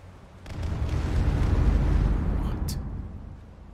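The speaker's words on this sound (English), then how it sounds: "I'm not sure where these explosions are coming from." A deep, sustained rumble of explosions in Skyrim swells and fades over several seconds, with a faint voice murmuring beneath the blasts.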